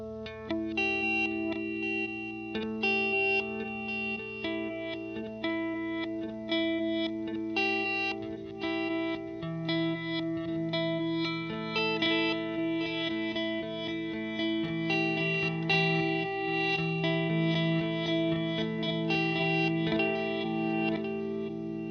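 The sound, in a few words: guitar reverse delay pedal demo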